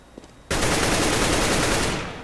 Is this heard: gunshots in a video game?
yes